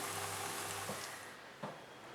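Idli batter bondas deep frying in hot oil, a continuous close sizzle that stays steady and then eases slightly, with a couple of soft stirring taps.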